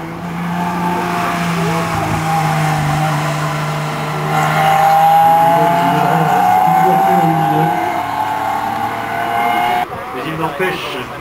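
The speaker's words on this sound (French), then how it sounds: "Reste bien évidemment dans la gamme Porsche, le fameux 6 cylindres qui fit la réputation de la marque." A Porsche six-cylinder race car at a historic hillclimb climbs through the gears, its engine note rising loud and near before a sharp shift, with a commentator talking over it.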